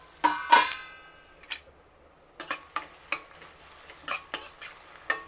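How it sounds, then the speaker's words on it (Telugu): A spoon scrapes and clatters against a pan while stirring a mess-style beetroot fry curry with tomato and ground paste, giving a series of irregular, close metallic scrapes and knocks with a faint sizzle between them. "ఒకసారి కలుపుదాము."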